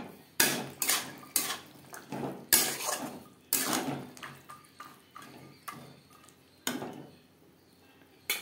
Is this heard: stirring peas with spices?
yes